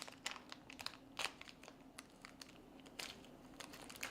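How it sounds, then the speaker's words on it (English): A plastic bag being worked open while building a gaming PC, giving faint, close crinkling and rustling in irregular bursts with several sharper crackles, no voices. "trying to open up a plastic bag"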